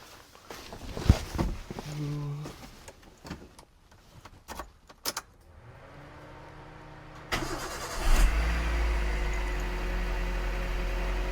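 A modified Honda Civic, just back from body and paint work, is brought out. Scattered clunks and rustling lead to an engine firing up, which then settles into a steady, close, deep idle rumble.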